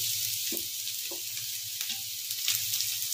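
Cabbage Manchurian with onions cooking in a hot pan: a steady, close frying sizzle runs throughout, with a few soft stirring scrapes and no talk.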